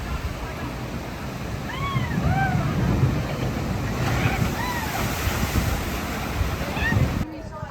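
The Viking Voyager log flume boat at Worlds of Fun splashes through water, a continuous loud rush and spray with wind buffeting the microphone and a few high chirping calls on top.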